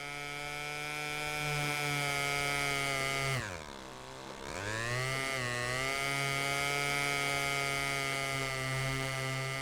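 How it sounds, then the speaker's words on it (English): An RC airplane engine in the RealFlight 8 simulator, a steady high buzzing whine rich in harmonics, loud and continuous, dipping briefly in pitch and volume midway during a maneuver before climbing back. "Let me know if you can hear me over the airplane."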